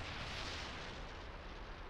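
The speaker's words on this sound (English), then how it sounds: "Oh, look at that explosion." A large explosion in the space game Star Trek Online gives a dense, sustained rumbling blast that fills the whole moment at steady strength without letting up, with no talk over it.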